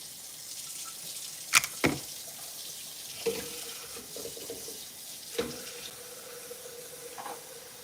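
A kitchen tap runs steadily to fill a chicken waterer, a continuous hissing stream close by with a few sharp clanks and knocks of the container over the flow.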